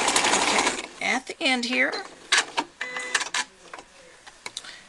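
A sewing machine stitches a towel hood in short bursts of fast mechanical whirring, then stops and starts again with clicks. The sound is close and moderately loud, and a voice speaks briefly over the stitching.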